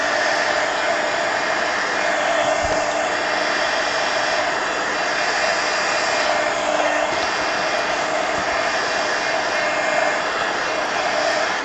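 A heat dryer used on watercolor paint blows in a loud, continuous whooshing whir with a steady motor hum that holds unchanged from start to finish.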